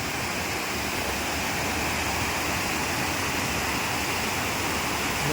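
Water pouring over a small village check dam in a Konkan stream, a steady, dense rushing roar that holds even and loud throughout with no break.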